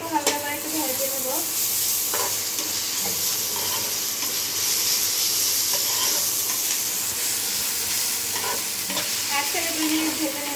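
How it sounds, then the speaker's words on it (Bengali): Ginger, garlic and cumin paste frying in a pan for chicken kosha makes a loud, continuous sizzle with scraping spatula strokes and light clinks throughout, no voices. "দিয়ে দিলাম মশলা বাটা, দিয়ে একটু হালকা করে একটু ভেজে নেব।"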